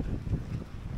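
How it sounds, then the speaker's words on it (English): Steady low rumble of wind buffeting the microphone at a beach resort in Siargao, loud and continuous with no other sounds. "It's pretty windy."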